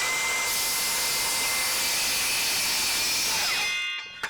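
A Milwaukee M18 Fuel 7 1/4-inch cordless circular saw cuts through plywood, a loud steady high-pitched whine running nearly four seconds before spinning down at the end, with no talking.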